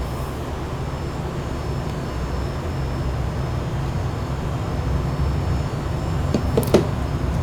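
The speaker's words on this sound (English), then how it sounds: "Engine crank to left." In the Aerosoft F-14 flight simulator game, the left engine cranks with a steady, droning low rumble and a broad whoosh of airflow, building slightly toward the end, where a few faint clicks appear; no one speaks.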